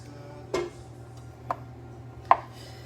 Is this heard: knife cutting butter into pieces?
yes